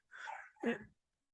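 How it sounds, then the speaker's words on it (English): A puppy gives a short pair of breathy, faint barks in quick succession, heard from some distance indoors, with silence after. "every time I start to talk, the puppy starts to bark in the background"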